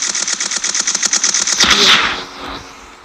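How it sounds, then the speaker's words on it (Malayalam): Rapid-fire gunshots in the mobile game Rope Hero, during a prison-break mission: a fast, even string of close, loud shots runs for about a second and a half, then gives way to a louder blast that fades out. No talking. "ഒന്ന് ജസ്റ്റ് ഒന്ന് വെടി വെച്ച് നോക്കാം"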